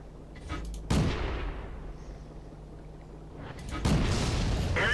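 A tank gun firing shells in the video game World of Tanks, two heavy booming shots about three seconds apart, each with a sharp crack and a rumbling tail, loud and close.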